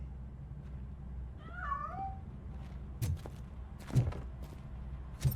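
A single short meow from a cat in RoboCop: Rogue City rises over low background rumble, followed by a few dull thumps and knocks like movement or footsteps.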